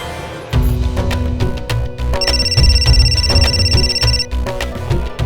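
A telephone rings repeatedly with a bright electronic tone, several bursts in a row, loud and close, with no one picking up.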